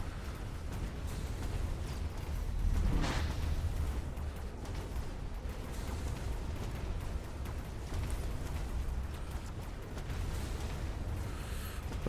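Video game missile strikes and explosions: a dense rumbling roar with one louder blast burst near the start, then sustained low booming and crackle throughout, with no talk.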